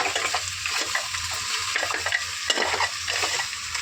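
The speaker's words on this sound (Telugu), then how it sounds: "ఇప్పుడు ఒకసారి కలుపుకోవాలి, అప్పుడు పులుసు పోసుకుందాం" Mutton paya is stirred through salt, chilli and spices in a pot, with rhythmic, close scraping strokes over a continuous frying sizzle and no voices.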